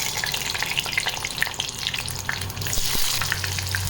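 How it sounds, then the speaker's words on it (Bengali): Onions sizzle in hot oil as the base for a Bombay duck fish mash, a continuous close frying crackle with occasional utensil clicks and stirring, no talking. "প্রথমে পেঁয়াজগুলো দিয়ে দিচ্ছি।"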